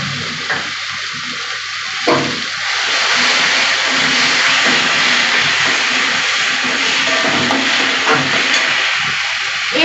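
Ginger, garlic and green chili paste frying in hot oil, a loud continuous close-up sizzle with occasional stirring scrapes throughout, no voices.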